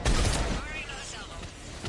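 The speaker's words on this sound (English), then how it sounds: "Firing another salvo." A missile salvo launches in Mass Effect 3: a loud, heavy burst at the start gives way to a rolling, fading rumble over the rest of the moment.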